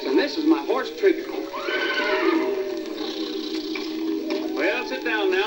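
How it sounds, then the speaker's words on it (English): Trigger, the horse from an RCA Victor record of Pecos Bill, lets out shrill whinnies with rising and falling pitch, one at the start and another near the end, over a continuous voice on the old record. "this is my horse Trigger"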